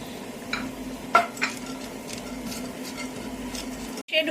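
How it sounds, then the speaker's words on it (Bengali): Dry fruits are stirred in a spoonful of ghee in a pan, giving a soft continuous sizzle with a few light utensil scrapes and clicks and a sharp knock near the end. "আর এর মধ্যে এই ড্রাই ফ্রুটসগুলো আমি একটু নেড়ে চেড়ে নেব"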